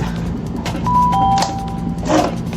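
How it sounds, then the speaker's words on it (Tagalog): Doorbell rung during a TikTok live stream: a short electronic chime of two clear tones, moderately loud, over a murky indoor background. "May nag-doorbell."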